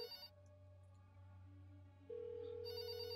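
A telephone rings after a number is dialed in the There Is No Game video game, giving a short electronic ring, a pause with a faint tone, then another ring, all fairly quiet and with no talking.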